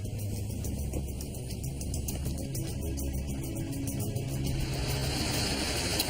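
A truck drives past on a quiet Alaskan stretch, its engine a steady low rumble that holds fairly faint and even throughout, with no voices over it.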